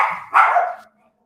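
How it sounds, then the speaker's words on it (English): At a cocker spaniel rescue, a dog barks close by, giving two quick, loud barks that run together and then fall into silence. "one dog starts barking and everybody's going"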